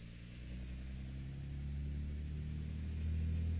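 Heavy car traffic in the Assetto Corsa video game on a Tokyo expressway, with a steady low engine drone and rumble from many cars that swells slightly toward the end, with no talk.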